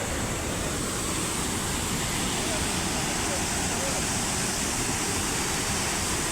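Water released from Hamirpara dam pours over the spillway in a loud, continuous roaring rush that fills the whole clip without letting up, with faint voices under the roar.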